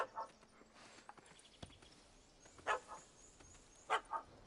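Scattered, faint yips from a puppy: a few short barks spaced irregularly against a quiet background, with soft knocks and rustles between them.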